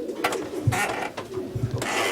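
Racing pigeons coo in low, soft repeated notes amid rustling and fluttering, close by, with no speech.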